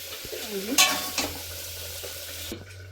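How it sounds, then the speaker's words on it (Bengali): Jackfruit and potato pieces frying together in a pan, a soft steady sizzle with scraping stirring strokes and a sharper clank of utensil on metal, fairly quiet and close. "এঁচোড় আর আলু একসঙ্গে আমি ভেজে নেবো ভালো করে।"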